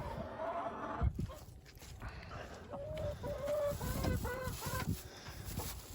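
Welsummer hens cluck and murmur in nesting boxes, soft repeated clucks and short rising calls close by over a steady background hiss.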